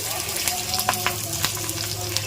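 Garlic cloves dropped into hot oil for a mango pickle tempering, sizzling steadily with quick spatula taps and light crackles, near and fairly loud.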